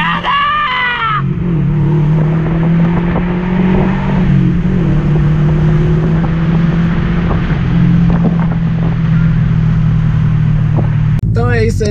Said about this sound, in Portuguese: Agora vamos dar mais uma acelerada!